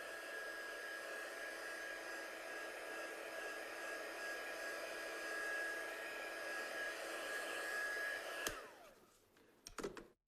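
A hair dryer blows steadily at close range to dry stencil paste on a handmade card, then cuts off with a click and a brief rustle of handling.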